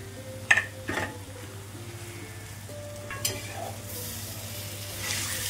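Mashed roasted eggplant bharit with onions and spices is stirred and sautéed on a flat pan, a soft sizzle under a few sharp spatula scrapes and clinks against the metal, with a low steady hum in the background.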